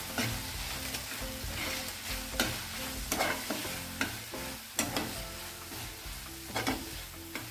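Spatula scrapes and stirs through chilli paneer spices, Kashmiri red chilli powder and chopped green chillies in a hot pan, with steady sizzling underneath and sharp, irregular scraping strokes close by.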